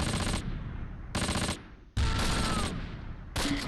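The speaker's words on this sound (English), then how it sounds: "More mortar fire on Bruce Lee." Mortar fire in the WWII tactical video game Close Combat, loud bursts of rapid gunfire in several separate blasts with short quiet gaps between them.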